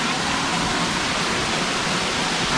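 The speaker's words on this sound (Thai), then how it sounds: "ตัวนี้ก็จะมีน้ำตกไหลมาตลอดเนาะ" Saeng Chan waterfall, also called Long Ru, pouring steadily over a rocky ledge near a stone terrace, a loud, continuous broadband roar heard close with no break.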